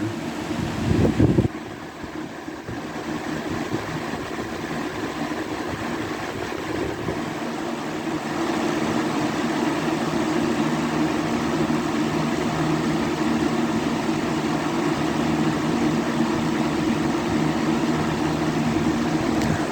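A 2003 Lakewood model 101 electric fan runs at a steady hum with airy whoosh, holding constant after a brief bump, then growing a little fuller and louder partway through, with no talk.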